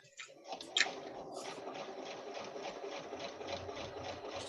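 A sewing machine runs steadily while stitching fabric seams, a continuous close mechanical whirr with a fast, even rhythm after a brief start-up clatter.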